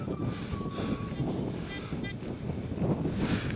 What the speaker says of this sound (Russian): сейчас от ветра отвернусь, потому что дует так, что просто капец